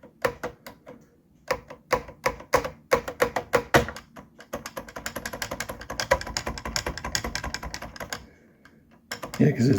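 Keys on a Commodore 64 Ultimate keyboard with a broken spacebar clack in bursts: sharp separate taps, then a fast run of rapid typing, close and crisp, with a few pauses and a louder rustle at the end.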